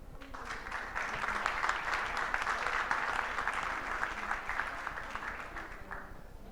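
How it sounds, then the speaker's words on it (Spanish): An audience at a sustainability panel applauds the introduced panelists, with sustained, even clapping from a crowd that swells early and fades gradually toward the end. "Les damos un fuerte aplauso."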